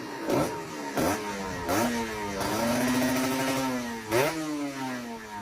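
A 2014 Kawasaki RR 150 motorcycle engine running close by, blipped in several sharp revs between a steady, buzzy idle, with no talking.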